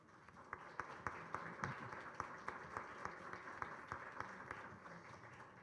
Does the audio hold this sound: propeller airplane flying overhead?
no